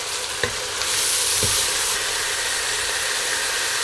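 Chicken frying in a pan sizzles loudly as a small splash of water is poured in, a steady close hiss and crackle that swells after a brief stir clink and holds to the end.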